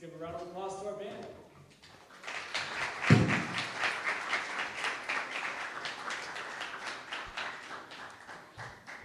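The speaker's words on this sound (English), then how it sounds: "So let's give a round of applause to our band." An audience applauds a band in a room, a steady wash of clapping that swells after a brief sung or spoken lead-in and carries on at moderate loudness.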